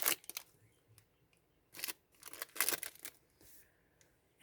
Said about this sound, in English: And I cut the top of this off